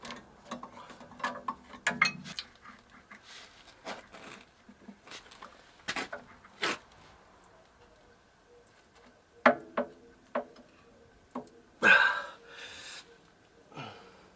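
A ratchet wrench works loose the passenger-side shock absorber nut on a Land Rover Discovery during a suspension lift, giving sparse, sharp metallic clicks and clanks at irregular intervals, close by and with no talk.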